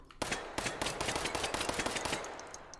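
A .22 Long Rifle gun fires rapidly in Hot Dogs, Horseshoes & Hand Grenades, a VR shooting game: a fast string of light, sharp cracks in quick succession, fairly close, ending with a few sparse clicks.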